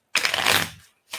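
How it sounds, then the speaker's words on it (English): A deck of cards is shuffled at a table during a silver-coin game, one close, quick riffle of fluttering cards followed by a brief second rustle. "One more shuffle."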